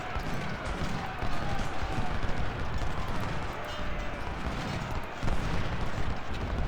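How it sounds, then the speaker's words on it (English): In a Civil War battle in Ultimate General: Civil War, artillery batteries fire repeatedly. The booms are dull and rumbling, blended into a dense, continuous din of battle, with a voice talking over it. "He's got 3 batteries firing into him."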